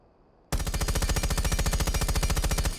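Fuze's gun, fitted with a muzzle brake, opens fire in Rainbow Six Siege after a brief quiet moment. It lets out a loud, unbroken automatic burst of rapid, evenly spaced shots lasting over two seconds.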